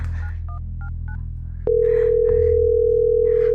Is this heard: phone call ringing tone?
yes